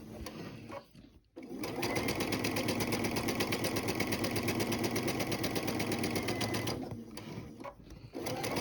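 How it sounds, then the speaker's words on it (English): Sewing machine stitching a fabric seam at a half-inch allowance, running steadily and fairly loud for several seconds with a fast, even needle rhythm, starting and stopping briefly at each end, no talk. "And I'm going to go ahead and sew that down."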